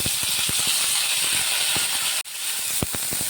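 Chopped onions tipped into hot oil for an aloo sandwich sizzle with a steady broadband hiss, punctuated by clicking stirring taps, one brief gap, then the sizzle resumes close and constant.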